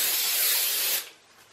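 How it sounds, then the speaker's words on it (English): Cooking spray hisses steadily onto a sheet pan for about a second, a loud, close, broadband spray that cuts off abruptly and leaves a faint tail of room noise. "you can put foil on it for easy cleanup, or you can just spray it"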